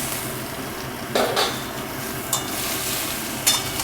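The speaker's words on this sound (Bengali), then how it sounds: "এবারে আমি যে কেটে রেখেছি যে ঝিঙেটা, সেই ঝিঙেটা দিয়ে দিচ্ছি।" Chopped ridge gourd tipped into a frying pan with hot oil and black cumin, a brief clattering drop and light sizzle followed by a few sharp utensil knocks against the pan.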